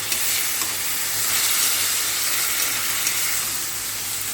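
Ginger and green chili paste fries in a pan with a steady, bright sizzle and hiss that holds evenly throughout.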